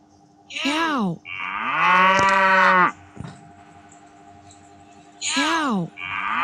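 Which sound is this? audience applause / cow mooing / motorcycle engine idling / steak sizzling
cow mooing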